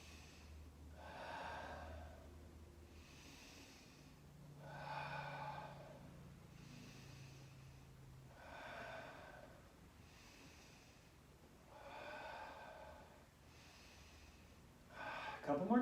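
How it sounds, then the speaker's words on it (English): Deep exhalations during a breath work exercise, about five slow, airy breaths out at a steady rhythm several seconds apart, close and moderately soft, with a low background hum. "Contract those abdominals as you breathe out."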